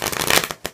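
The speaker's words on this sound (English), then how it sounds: "you can shuffle the deck" A deck of playing cards being shuffled for a card trick, a quick close riffle of rapid flutters that briefly falls quiet and ends with one sharp snap.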